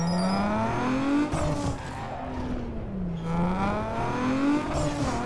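Car engine revving hard through rising and falling pitch sweeps in Need for Speed Underground 2, fitted with a new turbo, loud and close with a brief dip between runs and no talk over it.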